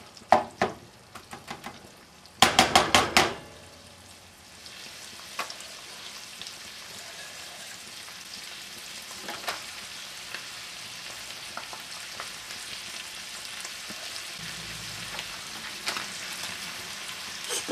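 Browned ground meat for homemade lasagna sautés in a pan with a steady low sizzle, opened by a few sharp utensil clatters and knocks against the pan, with no talking.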